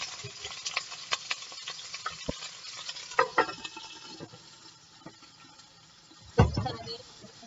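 Steak searing in a hot pan, a soft continuous sizzle with scattered crackles and pops, a few louder clatters of cookware, fairly quiet and close.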